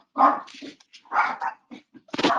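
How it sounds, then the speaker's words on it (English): A dog barking indoors, about four sharp, separate barks in quick succession, loud and close, with short gaps between them. "my dog barking"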